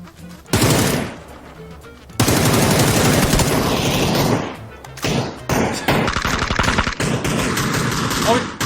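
Rapid automatic rifle bursts from a Beryl M762 and an M416 in a PUBG Battlegrounds firefight, loud and close, starting and stopping in long sustained volleys with short gaps, while a player's voice talks over the shooting.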